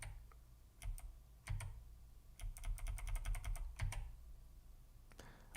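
Keys on a BBC Micro computer keyboard clack in scattered single presses and quick clustered runs, fairly close but soft, with no talking.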